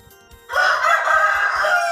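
A rooster crows loudly and close by in a rural Thai backyard, one long sustained call that starts abruptly and holds to the end.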